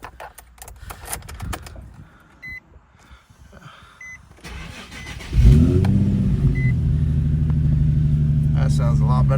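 A Nissan 350Z's engine cranks and fires up after faint cabin clicks and rustling, then settles into a loud, steady idle with a slight rise in revs.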